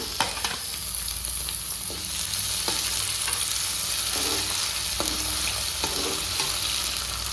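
Tomatoes going into browned frying onions for an Andhra-style palak pappu, a steady close sizzle with occasional scraping and clinking of the spoon against the pan as it is stirred, no voices.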